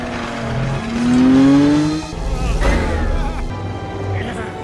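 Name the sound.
race cars speeding in Cars 2 race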